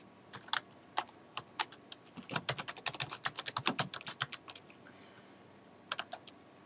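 Someone types an address on a computer keyboard, with quick bursts of crisp, close key clicks that come in a rapid cluster and then a short pause.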